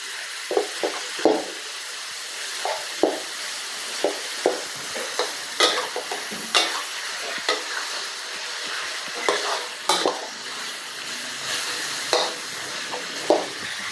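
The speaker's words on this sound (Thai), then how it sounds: "ผัดไปเรื่อยๆก่อนเนาะ ให้หมูสุกเนาะ" Pork being stir-fried in a pan for a shrimp-paste and stink bean dish, with steady sizzling broken by frequent scraping strokes of a spatula at an uneven rhythm, close and fairly loud, with no talking.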